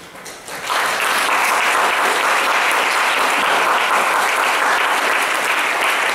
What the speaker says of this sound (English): You just had a very warm round of applause for what was a very interesting and provocative opening to our conference,